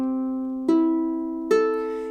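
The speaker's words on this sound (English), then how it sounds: "part of the uke's heritage in the way that it sounds is kind of the odd tuning of the strings" Open strings of a ukulele in standard tuning, plucked as three separate ringing notes, each clear and close, sustaining and fading before the next.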